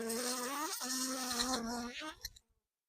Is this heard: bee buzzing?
yes